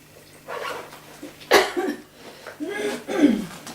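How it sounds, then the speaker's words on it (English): A man coughs during a blood pressure check in a clinical examination, a few sharp, close coughs and throat sounds breaking up quiet breathing, with a single loud burst standing out. "can't get rid of this cough"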